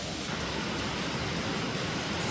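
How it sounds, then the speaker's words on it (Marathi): Someshwar waterfall on the Godavari river in flood after days of steady rain, a constant broadband roar of gushing water, dense and even throughout with no voices. "गोदावरी नदीवरील सोमेश्वर धबधबा पुन्हा एकदा खळखळला."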